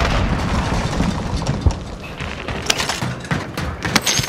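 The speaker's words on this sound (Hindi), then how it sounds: "फेंक रहा है बम बारूद" Bombs and explosives going off in a hunting shooter game, a run of sharp booms and gunfire-like cracks over a dense, noisy battle backdrop, with bigger hits near 1.7, 2.7 and 4 seconds.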